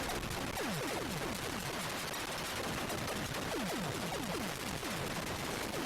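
Rapid gunfire from the Atari 8-bit game Warhawk, a continuous stream of synthetic shots with falling-pitch zaps firing in quick bursts over constant electronic noise.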